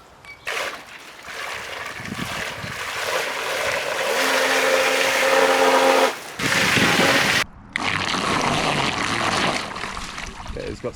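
A DIY electric longtail boat motor runs on throttle during a water test, a loud whining drone with splashing water that cuts out briefly twice, and someone talks at times.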